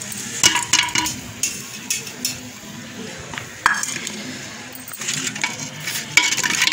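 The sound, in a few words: tempering spices sizzling in hot oil (tadka)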